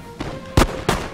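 Musket volleys from a Napoleonic battle video game crack out as two sharp, loud shots about a third of a second apart, preceded by a softer pop.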